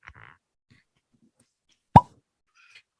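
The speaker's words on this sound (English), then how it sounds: "If it was the cutest cork pop, I definitely win." A single soft cork pop from a bourbon bottle, one short close plop standing alone in near silence, preceded by faint handling sounds.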